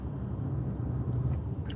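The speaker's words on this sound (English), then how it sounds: "that's what you hear is traffic" Steady low road rumble of traffic heard from inside a moving Toyota Corolla, a continuous dull drone with no voices.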